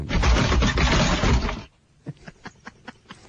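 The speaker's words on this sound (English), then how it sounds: "what is that, the clock falling off the wall?" A loud crash and rattling clatter, like a clock falling off a wall, fills the first second and a half, followed by several softer knocks and taps.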